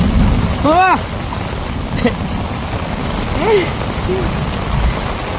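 Heavy monsoon rain with rushing, flowing floodwater around a moving car, a constant loud hiss and roar, with brief voices calling out over it.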